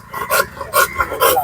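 A pit bull whines and whimpers in short, high-pitched bursts, three or four cries spaced across a moment, fairly close and clear with no talk over them.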